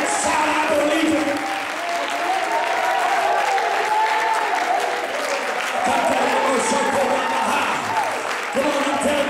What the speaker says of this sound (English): put your hands together and clap your hands and shout, I believe it.